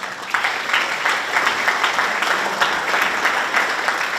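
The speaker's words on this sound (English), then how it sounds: "give Chartwells an incredible round of applause" An audience at a sports hall of fame induction ceremony claps steadily, a dense wash of applause from many hands that continues throughout.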